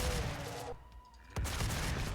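Shotgun blasts boom in the video game Doom amid dense, loud game noise, with a short lull before another heavy blast kicks in and the clamor resumes.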